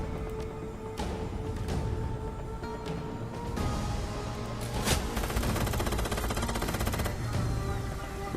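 Shots from a gun in the game Shadowrun Hong Kong Extended Edition: scattered single reports early on, then a rapid run of repeated fire, over a steady game backdrop.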